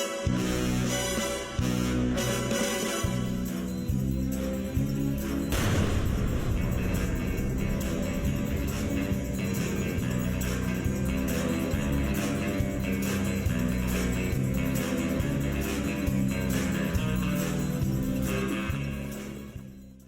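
Daniel Craig-era James Bond gun barrel opening: loud, continuous orchestral music with a sharp, sudden burst early on, then the theme swells on steadily to the end without any talk.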